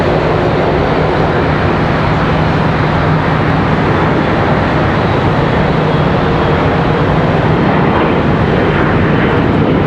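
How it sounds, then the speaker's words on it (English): An Embraer ERJ regional jet departing Charlotte Douglas airport produces a loud, continuous broadband engine roar with a low steady hum running underneath, sustained without any talk. "ERJ departure."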